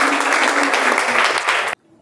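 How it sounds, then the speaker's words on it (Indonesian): A church congregation claps in steady, dense applause for about two seconds before it cuts off sharply into near silence. "biar kasih tepuk tangan dulu"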